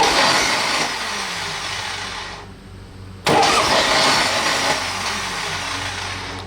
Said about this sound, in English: Here's the sound when the Bendix doesn't engage the flywheel.